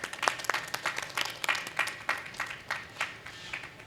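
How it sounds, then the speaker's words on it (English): Audience applause at a literature festival session, scattered individual claps spread across a hall, moderately faint and thinning out, with no voices over it. "Can we have a huge round of applause for both of them?"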